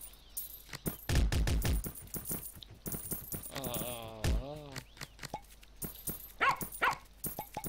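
Short barks from a dog in the garden game Plantera sound in quick bursts among clicking game effects, with a voice talking in between.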